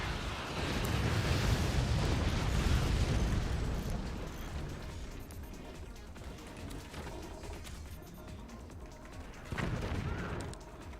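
Gunfire and explosions in the Forts strategy game with boats, a dense rumbling barrage of booms and bursts that swells loud early then settles into steadier crackling, with a fresh burst near the end.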